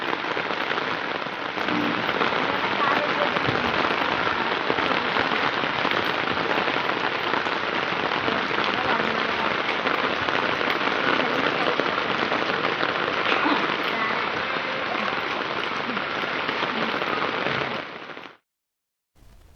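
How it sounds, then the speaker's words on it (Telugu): Heavy rain pours steadily onto the streets of Dilsukhnagar, Hyderabad, a dense, continuous hiss and patter that holds evenly loud for the whole stretch before cutting off abruptly near the end. "దిల్సుఖ్ నగర్ లో వర్షం దంచికొట్టింది"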